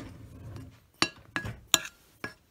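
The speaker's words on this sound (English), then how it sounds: "And we're gonna give this a stir." Four sharp clinks of a utensil against a glass bowl while stirring baking soda and salt, evenly spaced and close after a soft opening.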